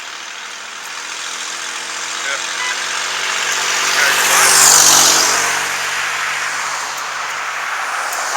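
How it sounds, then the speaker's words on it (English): Heavy highway traffic rushes past on a rainy day as a steady loud roar of tires and engines, swelling as one vehicle passes close by midway, while someone briefly speaks. "Sorry for the loud traffic."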